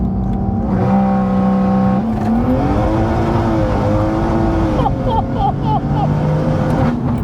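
An 800 BHP BMW M240i accelerating hard under boost, its engine droning and climbing in pitch through gear changes, loud and close from inside the cabin, with quick chirps near the end and no talking.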